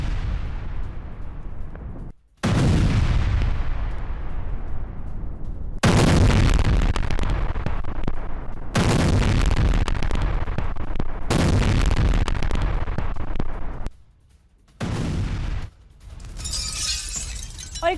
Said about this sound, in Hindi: डोनेट्स्क में रूस का बारूदी प्रहार फैब 250 बम से हमला किया गया।